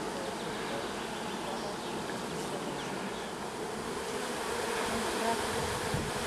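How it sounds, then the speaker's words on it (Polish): A dense, steady buzz from many honey bees at a hive in an apiary, loud and close, filling the air without pause. "Widać wzmożoną, intensywną pracę pszczół, tylko szumi."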